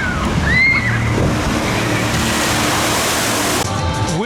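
A shoot-the-chute boat at Wild Waves theme park plunges down its double-dip drop into a big, loud rushing splash of water that surges and sloshes steadily, with faint screams and distant voices around it.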